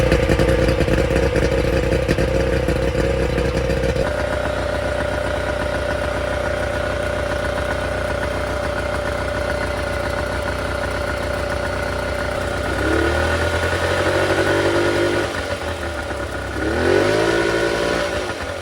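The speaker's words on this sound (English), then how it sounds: "so let's fire it up and see if we have voltage." An outboard motor on a Scout 155 boat fires up and runs at a steady idle, its drone holding close and constant, then revving in a couple of short rises near the end.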